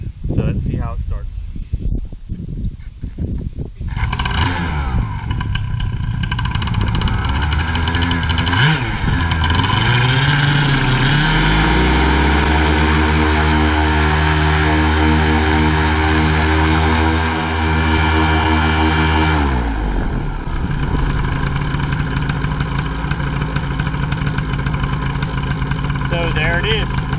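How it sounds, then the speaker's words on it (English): A Freshbreeze Top 80 paramotor engine on a WB-37 carburetor cranks and catches, then runs loudly with a steady buzzing drone, shifts pitch as it revs up and settles, and cuts off near the end. "start of the Freshbreeze top 80 with the settings I just showed you"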